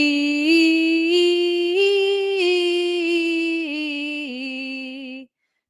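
A single voice sings a sustained "ee" vowel, stepping through distinct separate notes up and then down, ending abruptly after about five seconds.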